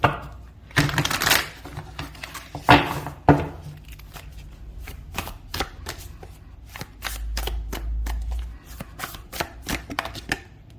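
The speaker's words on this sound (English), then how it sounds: "I'm going to give it one more shuffle." Tarot cards being shuffled: bursts of riffling followed by a run of quick, crisp taps and slaps as the deck is squared and cut, close up.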